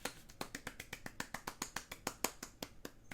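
Sharp hand claps ring out in a steady, fairly quick rhythm, roughly twenty crisp hits over a few seconds, close and alone with no talking.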